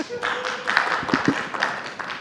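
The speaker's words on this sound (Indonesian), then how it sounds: "Tepuk tangan buat Pak Karni." A talk-show studio audience applauds Pak Karni with a short burst of scattered, moderately loud clapping that lasts about two seconds.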